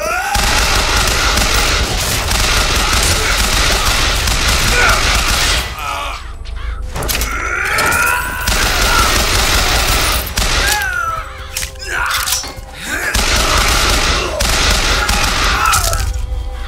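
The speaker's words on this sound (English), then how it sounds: "I shot you in the head!" Rapid bursts of gunfire in BioShock Infinite, loud cracking volleys and booms in dense runs broken by short gaps, with faint game sounds between.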